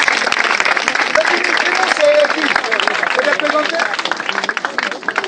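Church congregation applauding, a loud continuous wash of clapping from a crowd for several seconds, with voices mixed in.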